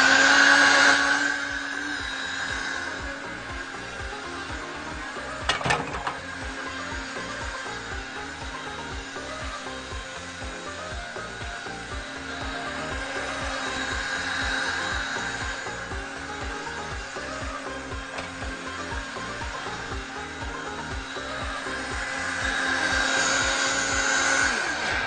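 An electric blender runs steadily, mixing fruit pancake batter, with a constant loud whir and a brief knock partway through, and no talking.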